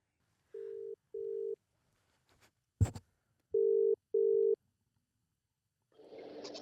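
Telephone tones on a phone call: two pairs of short, clean steady beeps separated by a pause, with a sharp click in between and muffled noise at the end.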